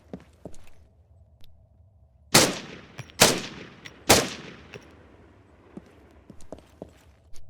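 Three sharp, loud gunshots at close range, evenly spaced about a second apart, fired into a soldier's body armor and crotch plate in the video game Arma 3, with faint clicks and movement sounds between them.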